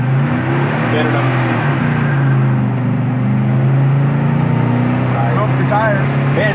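A 1970 Oldsmobile 442 muscle car drones steadily as it spins its tires, loud and close, under continuous talk from people inside.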